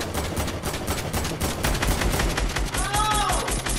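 Rapid gunfire bursts from a Fortnite Battle Royale match, loud and continuous with dense repeated shots and game effects throughout.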